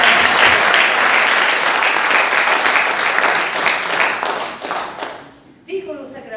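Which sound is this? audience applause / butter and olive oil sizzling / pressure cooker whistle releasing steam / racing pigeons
audience applause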